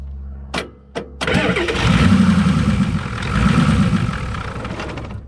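An old diesel engine that sat unused for 12 years turns over in two short cranks, then catches and runs with a loud, steady rumbling idle, close up and without talk.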